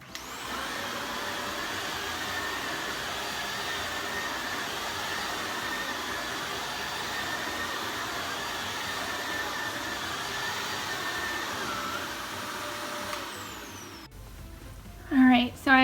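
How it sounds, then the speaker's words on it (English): A vacuum cleaner drones steadily at close range on carpet for a long stretch, then cuts off, followed by a couple of brief knocks. "I'm going to let this dry and then I'm going to vacuum it up."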